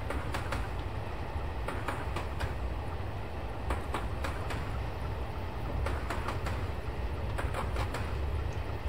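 Gravity train coasting downhill on the Ffestiniog Railway, with steady rumbling wheels and sharp, regular clickety-clack rail joints repeating close by at a brisk rhythm, continuous and fairly loud, with no talking.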